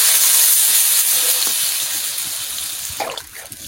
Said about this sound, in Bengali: ভাজা হয়ে গেছে, আমি জল ঢেলে দিচ্ছি।